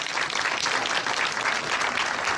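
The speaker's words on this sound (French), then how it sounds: "on peut les applaudir très fort" Loud, steady applause from a studio audience at a French television talk show, a dense wash of clapping hands filling the whole stretch without pause.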